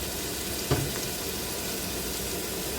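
Bacon frying in a Ninja 15-in-1 cooker, a steady close sizzle with one brief clatter near the start.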